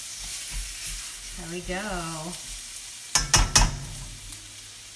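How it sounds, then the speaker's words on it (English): Pork stir-frying and sautéing in a pan for pork bokkum, with a continuous close sizzle and sharp scraping stirs near the end, under brief speech. "Get it all sauteed in there."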